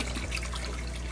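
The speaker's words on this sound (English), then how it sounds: "I'm just using that garden hose to fill up this 5-gallon tote with some water" Tap water runs from a garden hose hooked to a sink into a 5-gallon tote, a steady close rushing and splashing that fills the whole moment without a break.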